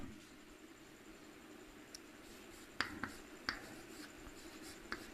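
A pen scratches and taps on paper or a board during a math lesson, with a few brief strokes and clicks over faint background noise and no talk.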